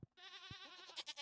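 A baby goat in Stardew Valley gives a short, wavering bleat preceded by two soft thumps, heard alone and fairly close.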